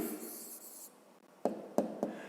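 Pen on paper noting a fifth-grade maths answer: soft scratchy writing at first, then a quiet pause and three short crisp taps or strokes close by, with no talking.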